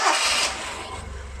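A 1971 Toyota Celica TA22 barn-find engine runs steadily, a close, even mechanical drone with a brief brighter burst at the start before settling into a rough, low idle.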